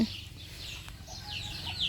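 Chickens cluck close by at a market, in short repeated calls over a low murmur of background noise.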